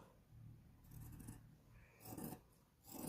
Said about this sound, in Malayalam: ഇതുപോലെ തന്നെ കട്ട് ചെയ്ത് കൊണ്ടുവന്നിട്ട് ഇത് ചരിച്ച് ഇതിലേക്ക് ഒന്ന് കട്ട് ചെയ്ത് മാറ്റുകയാണ്